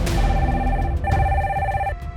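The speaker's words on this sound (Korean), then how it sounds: "회의실로 전화가 한 통 걸려왔어." A telephone rings with an incoming call, a loud electronic trill repeating in two quick bursts that sound close by.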